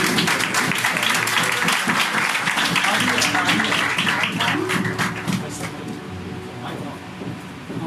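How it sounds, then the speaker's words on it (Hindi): Applause from a church congregation swells loudly at the start, thick clapping with voices mixed in, then gradually thins and fades out toward the end. "आइए ज़ोरदार तालियां"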